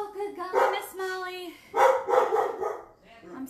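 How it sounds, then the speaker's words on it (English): Several dogs bark and yip at someone arriving at the door of a home, in repeated bursts mixed with a person talking nearby. "My apologies for the dogs."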